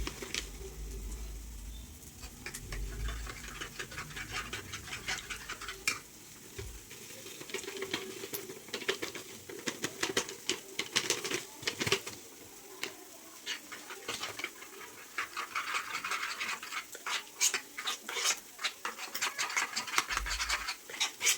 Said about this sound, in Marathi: अर्धी वाटी दूध घेतलेला आहे आणि त्याच्यामध्ये हा मसाला मिक्स करायचा